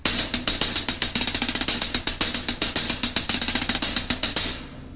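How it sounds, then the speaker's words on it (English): Nine-stroke rolls strung together in a steady run of 16th notes on a drum kit, quick doubled strokes pulsing in repeating groups with regular accents, loud and close for about five seconds before ringing off, no talking. "so in a string of 16th notes, it might sound like this."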